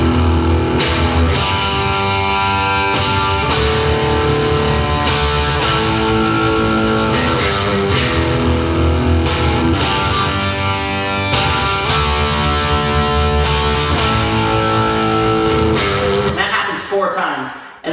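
Distorted electric guitar plays the chorus of a song in E standard tuning, a loud, dense riff with steady rhythmic chord stabs that runs continuously before trailing off at the end.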